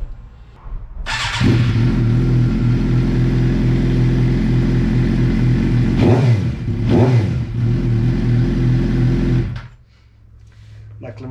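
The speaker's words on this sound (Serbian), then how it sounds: "Meni je zvuk motora, znači, ovo tu mi je zvuk motora." A motorcycle engine runs loud and close, holding a rough idle, then gives two quick revs before dropping away.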